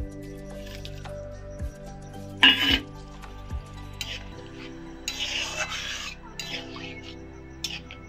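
Eggs going into a pan with water for Bengali egg posto, a sharp clatter and sizzle followed by scraping and stirring of utensils against the pan, with a low background hum throughout.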